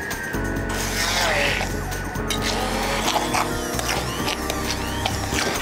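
A blender purées cooked artichoke with vanilla seeds. Its motor whirs continuously and loudly, with a gritty, churning texture and slight shifts in pitch, close up, and with no talk.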